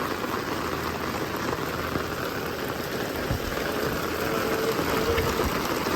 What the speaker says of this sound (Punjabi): ਇੱਧਰ ਵੀ ਫੁੱਲ ਮੀਂਹ ਪੈ ਰਿਹਾ ਏ